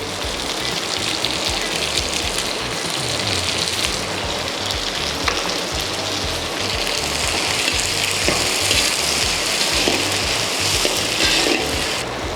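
Green chillies and a handful of curry leaves sizzle in hot oil for sambar rice, a loud, dense, steady crackling hiss that carries on without a break and has no talk over it.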